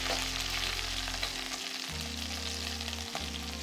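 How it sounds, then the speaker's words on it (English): Pork belly pieces sear skin side down in a hot pan with a steady, fairly quiet sizzle that continues throughout, while a low hum rises and falls beneath it. "And then let that sear for the next sort of 3 to 4 minutes"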